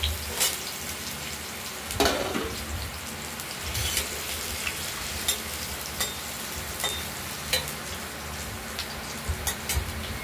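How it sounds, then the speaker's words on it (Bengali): Potatoes frying in hot oil in a kadai tempered with cumin, bay leaf and dried chilli, a continuous crackling sizzle broken by bursts of spattering and stirring, close by. "এরপর আলুগুলোকে আমরা এক এক করে ভেজে নেব।"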